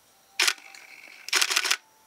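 A Nikon film camera, part of a Nikon F2, F3 and F5 film loading demonstration, gives a sharp mechanical click, then a longer rattling burst of shutter and winding sounds, close and loud with no talk.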